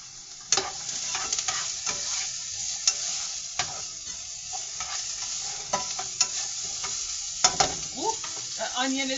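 Onions fry and sizzle in a pot with a steady crackling hiss, broken by repeated scraping and stirring knocks from a utensil, close by.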